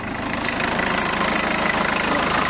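Up close, the engine of a cheap used estate car idles with heavy vibration, giving a steady, rough, knocking rumble that holds evenly throughout, with no voices.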